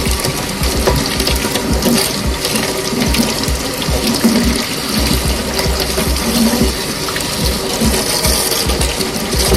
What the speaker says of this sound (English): So now I want to rinse it again in warm water.